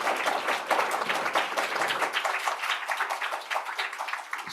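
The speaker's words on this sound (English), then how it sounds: "can we give them a round of applause?" An audience at a conference's closing session claps, giving a full burst of dense, even applause that continues for several seconds and thins slightly toward the end.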